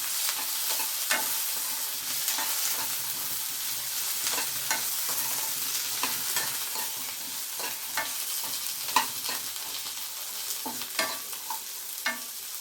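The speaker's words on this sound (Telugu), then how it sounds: "ఇప్పుడు కొంచెం కరివేపాకు వేసుకోవాలి. ఇది కొంచెం వేగాలి బాగా." Curry leaves fry in a hot pan for a home-style cauliflower mixed-vegetable curry, a steady close sizzle broken by repeated scraping stirs, with no talking.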